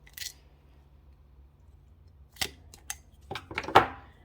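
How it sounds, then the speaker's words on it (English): Rivet hole punch pressing through leather, a quiet pause then a few sharp clicks and snaps, the last and loudest being the crunch of the punch going through, close up in a quiet room. "I'll go ahead and punch a hole with my rivet hole puncher"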